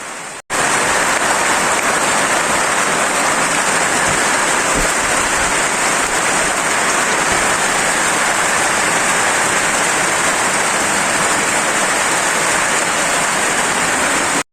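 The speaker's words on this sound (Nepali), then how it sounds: "राम्रो पानी पर्नु लाग्यो" Heavy rain pours down in a dense, loud, unbroken roar on a hill road in eastern Nepal, starting abruptly and holding steady from beginning to end.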